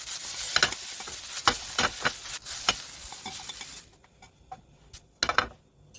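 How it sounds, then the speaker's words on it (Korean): Shiitake mushrooms and minced beef stir-fry in oil with soy seasoning, stirred with wooden chopsticks, giving a close crackling sizzle broken by sharp scraping strokes before it quiets down near the end. "표고버섯과 소고기 다진 것을 볶아보도록 하겠습니다"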